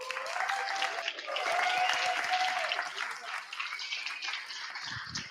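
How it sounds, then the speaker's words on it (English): An audience at a Greater Reset Activation event claps loudly in a dense, sustained burst, with a few cheering voices riding over it before the applause thins toward the end. "I woke up and everybody was clapping"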